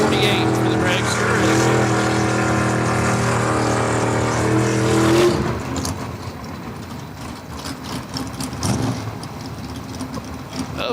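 A dragster at a spring time-trial drag racing event roars with a loud, sustained engine tone for about five seconds, then cuts off abruptly, leaving quieter crowd and ambient noise with faint talk.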